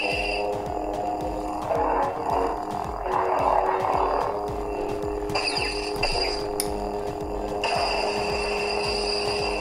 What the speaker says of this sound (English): The High Ground, which I believe is a Kenobi sound font.